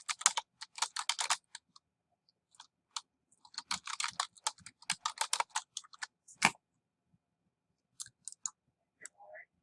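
Bursts of quick clicks from a computer keyboard as a short caption is typed, coming in clusters separated by brief pauses, close and fairly crisp with no talking.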